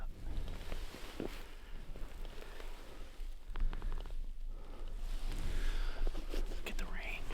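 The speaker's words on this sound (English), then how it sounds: "Look at the rain." Steady rain patters outdoors during a rifle deer hunt, a soft continuous hiss that swells louder toward the end, with quiet whispered talk over it.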